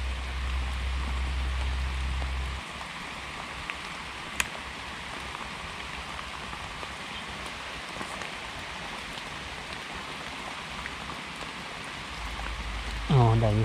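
Steady rain falls outdoors on leaves and undergrowth during mushroom picking in a eucalyptus grove, a continuous soft hiss with scattered drops and a low rumble at the start and end.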